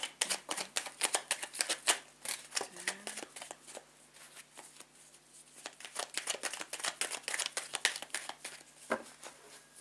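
Tarot cards are shuffled and cut by hand, making rapid, uneven bursts of close riffling and flicking slaps that run almost nonstop, with short pauses between bursts.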